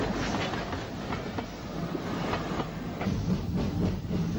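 Isle of Wight railway train No. 35 Freshwater passes at speed near Smallbrook Junction, with a steady rumble and rhythmic clickety-clack of wheels over rail joints, close and continuous.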